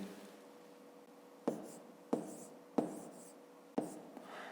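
Numbers are written by hand during a fifth-grade maths exercise. Close pen strokes scratch on paper, with four sharp taps as the pen lands, and a faint voice hums underneath.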